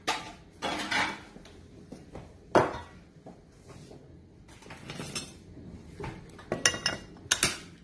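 Almonds tipped into a saucepan in a home kitchen, giving scattered light clinks, rattles and metallic knocks of nuts and pan handling, fairly quiet and close, with irregular bursts and pauses.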